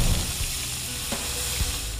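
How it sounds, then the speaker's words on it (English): Food frying on a food truck griddle, where cheesesteaks and other dishes are cooked: a continuous bright sizzle with a couple of soft scraping stirs, close and alone. "frying up all kinds of foods"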